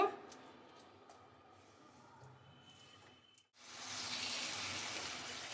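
Paneer-stuffed potato curry being sautéed in a pan: a quiet low rustle at first, then a sudden steady hissing sizzle that continues to the end.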